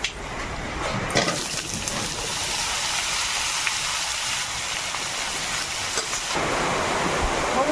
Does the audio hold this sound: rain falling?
yes